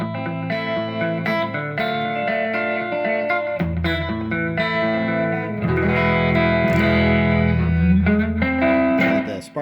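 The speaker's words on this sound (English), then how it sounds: "Spark drive is adding a little distortion there." Electric guitar played through a Spark drive distortion effect by a professional player checking tone before a gig, sustained chords and notes ringing with a gritty edge, loud and alone.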